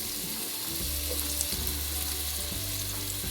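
Sliced onions frying in canola oil for Pakistani-style chicken biryani, a steady close sizzle with a few periodic stirring scrapes and no voices.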